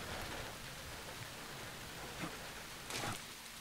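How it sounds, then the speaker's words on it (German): Faint steady rain in a video game, Splinter Cell: Blacklist, hisses softly, with a few louder drop-like patters standing out now and then. "Also es regnet hier."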